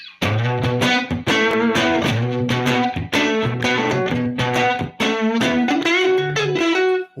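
Electric guitar through an amp set at the edge of breakup, strummed chords in rhythmic bursts with light crunchy distortion, close and loud, no talking.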